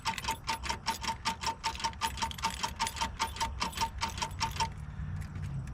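Tractor engine turning over on the starter without catching, a rapid run of even mechanical chugs and clicks for about five seconds, then stopping, leaving a quiet hum.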